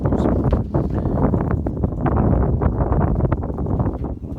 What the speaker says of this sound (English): A gust of wind.